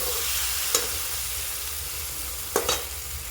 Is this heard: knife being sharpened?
no